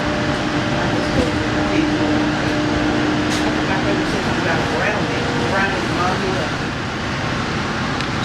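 Amtrak Cardinal train #50 pulling out of White Sulphur Springs station, heard from inside as a steady, close rumble with a faint humming tone and light rattles. A voice talks over it throughout.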